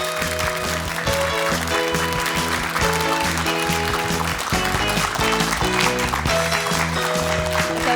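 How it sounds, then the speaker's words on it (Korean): A studio audience on a morning TV talk show applauds to welcome a guest, its broad clapping blended under loud, upbeat band music that plays the whole time. "박수로 맞이해 주십시오."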